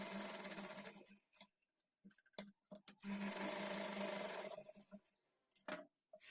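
A sewing machine stitches blouse fabric in loud, steady whirring runs, stopping and restarting several times with short quiet pauses between bursts.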